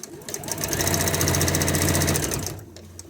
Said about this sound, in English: you're just stitching along the edge here of the bias binding all the way along